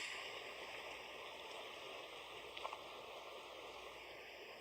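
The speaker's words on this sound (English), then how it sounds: "that is a nice babbling brook." A babbling brook gives a steady, soft rushing and gurgling of flowing water, faint and even throughout, with a couple of small splashes.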